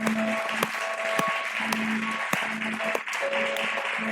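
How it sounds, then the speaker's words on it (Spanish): Church congregation applauding during a Spanish-language sermon, a steady wash of clapping lasting a few seconds with scattered sharper claps, moderately loud with organ or keyboard tones sustained underneath. "¿Por qué no le das un aplauso al Espíritu Santo?"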